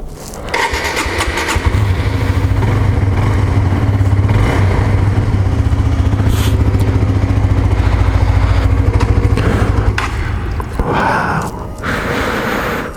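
A Suzuki GSX-R125 motorcycle idles while warming up, its engine a loud, close, steady drone with a slight change in pitch near the end.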